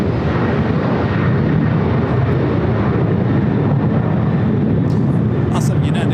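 Cathay Pacific Boeing 777 airliner at LAX, a loud continuous jet engine roar with a broad rumbling wash that stays steady and close throughout, with faint voices in the background.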